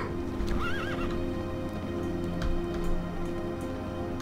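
A horse in World of Warcraft whinnies with a rising, wavering neigh and snorts, its hooves clip-clopping steadily beneath, with a soft rain-like patter across the scene.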